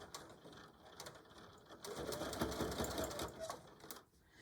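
A sewing machine runs back stitches through denim jeans for a phone pouch, a steady mechanical whirring that swells louder midway and then drops off near the end, with no voices.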